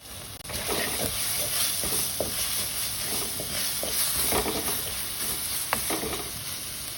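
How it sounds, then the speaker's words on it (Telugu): Green chili, ginger and cumin paste frying in oil with asafoetida, a continuous sizzle broken by scattered stirring scrapes and pops, with no talking. "ఆ పేస్ట్ కూడా వేసి కాస్త వేయించేసాను"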